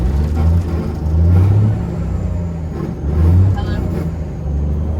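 A cabover truck engine rumbles low and close, rising in two revving swells as the throttle is pushed. People talk over it.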